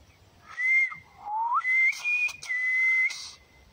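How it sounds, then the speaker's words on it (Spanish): Silbo Gomero, the whistled language of La Gomera, renders a single word as one clear, loud whistle close by: a gliding tone that dips, rises, then holds steady across several segments for nearly four seconds, with no voices. "Yo tengo un buen silbo."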